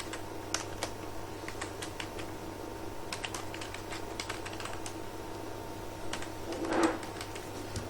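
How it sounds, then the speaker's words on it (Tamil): Someone types on a computer keyboard while working in AutoCAD: irregular clusters of light keystroke clicks, close and soft over a low steady hum, with a slightly louder burst near the end. "டைப் பண்ணிக்கிறேன்."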